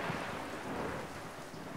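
Thunderstorm sound effect of steady, dense rain hiss with low rumbling thunder, fairly even and continuous throughout, no voices.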